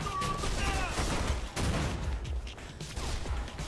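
Gunfire rattles in Mirror's Edge, with repeated bursts of shots and impacts over game noise and a talking voice, moderately loud and uneven.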